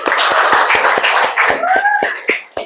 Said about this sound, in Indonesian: Tepuk tangan buat kelas 6C.